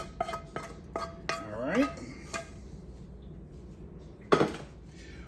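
Metal tongs clink and scrape against a big pot while stirring spaghetti noodles, several light taps and a swishing stir, then a louder clatter near the end, with a person speaking briefly.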